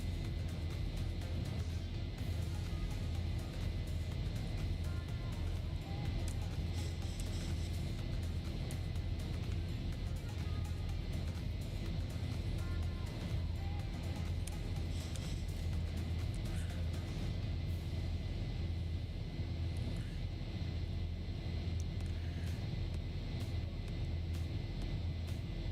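Airliner taking off in the X-Plane 11 flight simulator, a steady, loud engine rumble and roar that holds evenly throughout with no talk over it.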